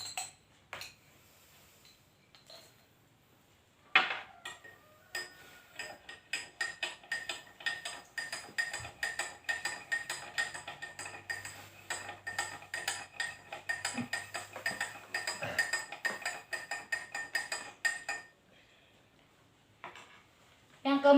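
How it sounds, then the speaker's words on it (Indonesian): A metal spoon clinks and scrapes against a glass while stirring salt into water, a dense run of small close ticks and chimes lasting about fourteen seconds after a single louder clink, then stopping. "Yang ketiga, tambahkan garam 1 sendok makan ke dalam gelas label kedua,"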